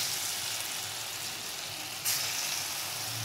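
Small pea-lentil fritters (bora) fry in hot oil, giving a steady, close sizzle and bubbling hiss throughout, with a brief louder crackle near the end and no talk.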